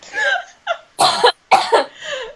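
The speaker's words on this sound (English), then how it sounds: "I was so busy laughing that I choked and I started coughing." A burst of harsh, raspy coughs after choking while laughing, in quick succession, loud and close, with a strained breathy wheeze trailing after.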